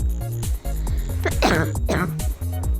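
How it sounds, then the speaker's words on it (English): A person gives two harsh, close coughs over loud, steady game music from Rolling Sky. "Oh, coughed."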